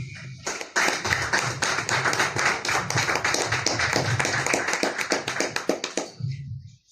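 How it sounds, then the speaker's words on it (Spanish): Audience applause at a book presentation, a brisk burst of many hands clapping close and fairly loud, swelling quickly, holding for about five seconds, then tapering off. "pido un fuerte aplauso"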